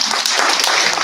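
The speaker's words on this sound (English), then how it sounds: "Can I get a clap?" Brief burst of audience clapping at a postgraduate conference awards announcement, a fairly loud, dense patter of many hands with no voices over it.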